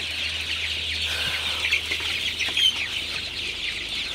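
Sonali chickens on a poultry farm cluck and chatter continuously as a busy flock, over a steady background hum with a few sharper calls standing out.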